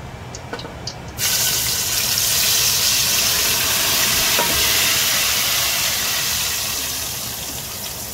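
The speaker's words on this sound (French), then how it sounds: "Une fois chauffé, nous allons faire revenir les condiments." Condiments dropped into hot palm oil in a pot burst into a loud, dense, steady sizzle that starts abruptly after a quiet moment and holds throughout, close by, then eases slightly toward the end, with no voices.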